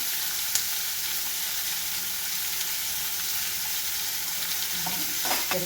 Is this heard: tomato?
yes